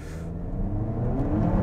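A 2022 Hyundai Kona N front-wheel-drive hot hatch accelerating, a steady engine and exhaust drone that swells toward the end, close and fairly loud, with no talk.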